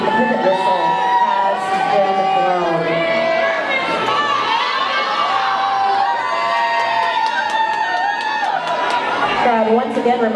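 Roller derby crowd at a 2012 bout shouting and cheering together, loud, dense and sustained, with high children's voices and whoops layered over constant chatter.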